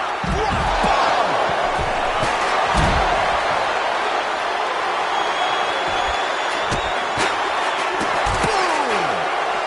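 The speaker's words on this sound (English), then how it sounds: "With every move you make, you hear this capacity crowd following you on that journey." A capacity wrestling crowd roars steadily at WWE SummerSlam, a dense continuous cheer filling the arena, with thuds from the ring and a commentator talking over it.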